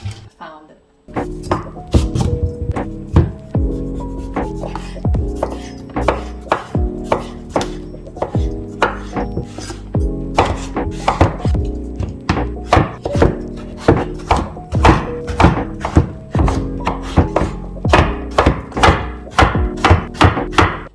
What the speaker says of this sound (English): Now that the sweet potato is cut into tiny little squares